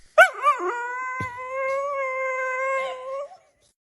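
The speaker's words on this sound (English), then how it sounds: "When you say no to a spoiled dachshund." A spoiled dachshund lets out a loud, sustained howl lasting about three seconds, starting with a few wavering yelps and then settling into one long, steady, close-up protest wail.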